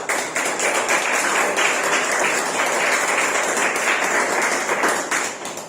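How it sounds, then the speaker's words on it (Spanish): A church congregation claps together during a Spanish-language Bible study service, a broad, steady roar of many hands that stays even for several seconds before tapering off, with no voices on top. "Denle un aplauso al Señor."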